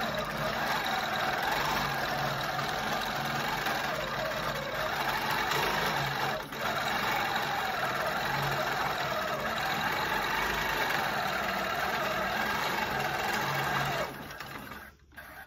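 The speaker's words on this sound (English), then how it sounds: "right now we are in the quilting stage of this quilt" A sewing machine quilting a quilt runs in a steady, continuous mechanical hum, close and even for most of the stretch before stopping near the end.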